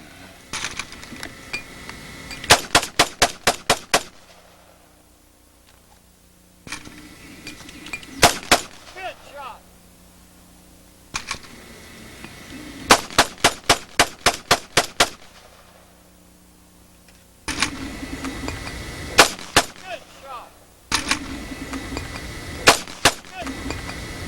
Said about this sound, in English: he may be using his Mini 14 on this little bitty running target game